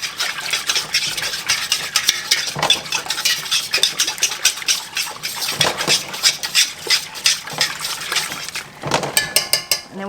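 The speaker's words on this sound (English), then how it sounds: "going to add my box of pectin and just stir it in well" Pectin being stirred into a pot of apple jelly juice made from peelings and cores: brisk, continuous spoon scraping and clinking against the pot, close and busy, with no voices.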